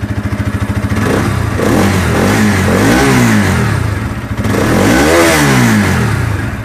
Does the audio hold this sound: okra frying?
no